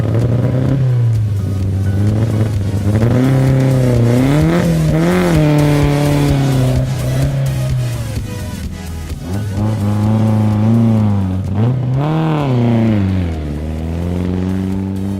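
Rally car 304 drives back onto a sugarcane-lined stage, its engine loud and near, revving up and down through gear changes with rising and falling pitch sweeps and no talk.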